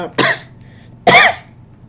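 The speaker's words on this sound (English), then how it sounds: "which is why I'm coughing" Two short, harsh coughs a moment apart, close and fairly loud, with a brief quiet gap between them.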